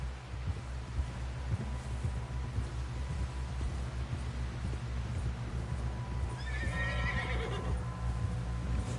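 A horse whinnies loudly near the end over steady clip-clop of hooves and a low rumbling background, with riders pushing hard toward a camp.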